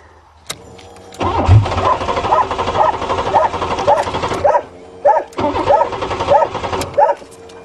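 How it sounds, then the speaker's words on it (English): A Buick crushed twice by a 20-ton bulldozer cranks over and over, its starter grinding in a steady rhythmic churn with repeated pulsing bursts and brief pauses, loud and close, with a sharp knock just before the cranking begins. "Let's see if this thing fires up"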